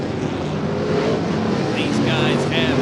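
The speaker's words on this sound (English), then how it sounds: "Bill Tunney, full throttle again in turn 3." A race car engine at full throttle during a Figure 8 endurance race on a track, roaring steadily and loudly under an announcer's continuous commentary, with a rising whine near the end.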